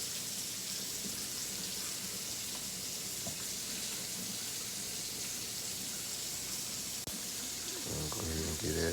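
A flour and water slurry is poured into a pot of simmering chicken and rice, giving a soft steady sizzling, bubbling wash with a faint splash near the end, fairly quiet and close.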